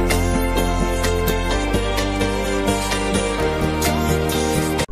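An instrumental of a pop song, extracted by an AI splitter, plays loud and dense with steady beats and sustained tones, a slightly smeared, artifact-laden mix that cuts off abruptly at the end.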